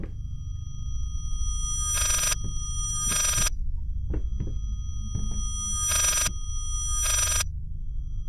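Four bursts of ringing from a telephone in the horror game Layers of Fear, spaced in two pairs, over a low rumbling ambience with soft thudding beats and no speech.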